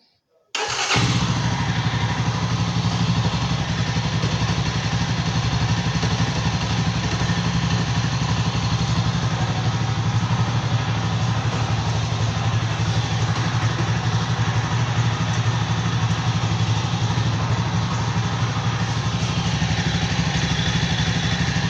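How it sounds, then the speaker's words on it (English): A Jawa classic motorcycle engine fires up after a short silence and settles into a steady, loud, close idle with a lumpy low throb and mechanical clatter that runs on unbroken to the end. "And now I will fire up the engine."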